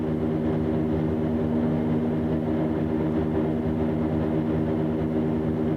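A propeller airplane climbs after takeoff on an early morning mail flight, heard from inside as a loud, steady engine drone with a strong low hum throughout.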